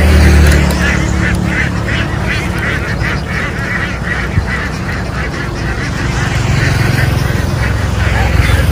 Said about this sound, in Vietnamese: Cái con vịt